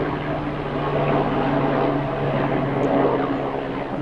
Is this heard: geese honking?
no